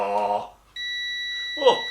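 Continuity tester giving a steady electronic beep that starts abruptly and holds for over a second, with talk just before and a brief voice over its end.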